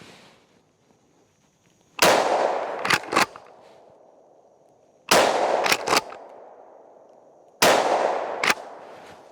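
Three loud Winchester SXP Marine Defender pump shotgun shots firing light practice loads outdoors, each sharp blast followed by quick metallic pump-action clatter and a fading echo, spaced a few seconds apart.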